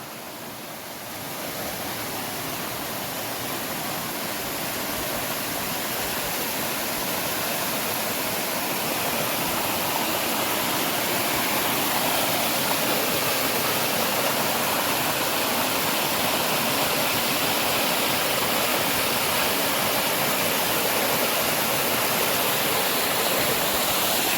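A swollen monsoon river in a Kokan village rushes where a smaller stream joins it, a dense, steady roar of fast water that swells in over the first seconds and then holds loud and unbroken.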